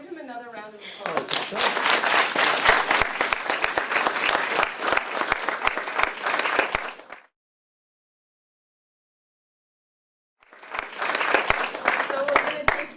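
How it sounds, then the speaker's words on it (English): Audience applause after a talk on racial profiling, dense clapping building quickly and holding steady for about seven seconds, then a gap of silence before a second burst of clapping resumes near the end. "can we give him another round of applause?"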